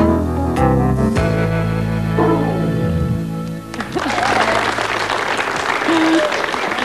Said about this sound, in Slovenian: Najlepša hvala za tale aplavz.